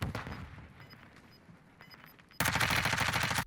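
A burst of MP5 submachine gun fire at long range in Warzone 2, a dense rapid volley that kicks in suddenly and loudly after a stretch of quieter ambient battle noise.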